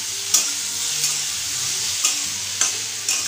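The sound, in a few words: papaya curry cooking in a pan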